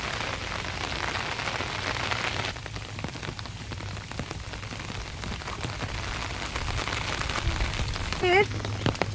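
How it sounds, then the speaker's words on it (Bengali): Steady monsoon rain pattering on a surface in a Sundarbans village, a dense hiss throughout with a brief faint voice near the end. "দেখো বৃষ্টিটা দেখো শুধু।"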